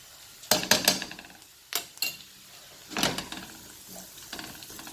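A spoon stirs turmeric powder into daal in a pot, giving several short scraping and clinking bursts in uneven clusters, close and moderately loud, with quiet pauses between.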